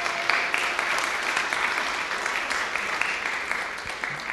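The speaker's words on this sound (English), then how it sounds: "let's give her a round of applause" Steady, sustained applause from a church congregation during a Sunday service, even and continuous, heard at a moderate distance with little else audible.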